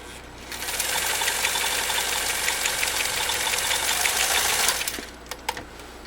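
A 1.2 amp Kenmore 158.904 sewing machine stitches a zigzag through 18 oz cowhide leather, running at a fast, steady mechanical whir for about four seconds, close and loud, then stopping, followed by a few clicks.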